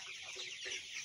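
Sonali colour bird chickens, 34 days old, cluck softly on a poultry farm, a faint, continuous murmur of several birds heard from a distance, with no speech.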